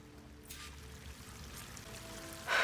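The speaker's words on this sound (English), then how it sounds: "That waterfall must be coming from somewhere." A waterfall in the game Horizon Forbidden West pours as a soft, continuous rushing wash, faint and fairly distant, ending in a brief louder splash burst.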